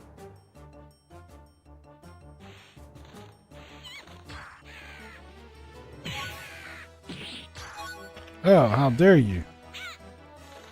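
A dodo-like bird creature in a video game gives a series of squawking, honking calls, sparse at first and then louder and more frantic, rising to a harsh burst near the end, with a person talking over them.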